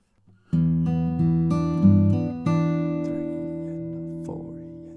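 Acoustic guitar playing the break section of a song, a few plucked chords struck in sequence with sustained ringing strings, close and clear with no talking.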